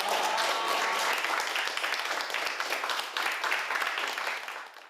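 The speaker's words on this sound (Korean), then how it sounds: "수고한 우리 모두를 위해서 박수 치며 마무리하겠습니다." A group in a classroom craft workshop claps together to close the session, a brisk, full round of hand clapping close by that gradually fades out at the end.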